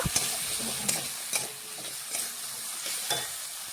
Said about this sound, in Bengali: ভালোভাবে নাড়াচাড়া করে মিশিয়ে আলু আর গাজর একটু আগে ভেজে নেব।